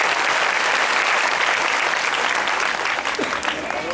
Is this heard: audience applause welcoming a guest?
yes